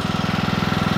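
A lawn tractor engine runs steadily close by, its rapid even chugging pulse repeating without a break, and no one speaks over it.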